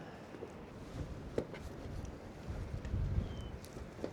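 Gusty wind buffets the microphone outdoors, a steady rushing roar with a few louder swells and faint knocks.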